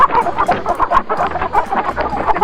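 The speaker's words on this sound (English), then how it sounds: "A chicken says cluck cluck." A chicken clucks repeatedly in quick, busy bursts, close and clear, with no talking over it.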